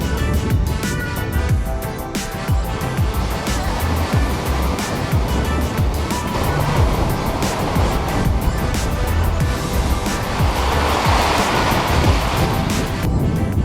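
Waves wash onto a beach with dirty, sewage-polluted water, a loud continuous surf roar with rolling swells and wind buffeting the microphone, heard close and without speech.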